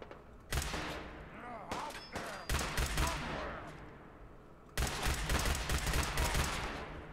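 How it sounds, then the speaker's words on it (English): Bursts of rapid gunfire from a mutant-killing gun in Fallout 4, several separate volleys of sharp repeated shots with short pauses between them, loud and close. "It's a special gun for killing mutants."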